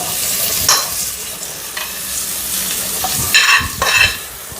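Ingredients for a coconut mango chutney frying lightly in oil, with a constant close sizzle and a few crisp bursts of stirring and scraping in the pan.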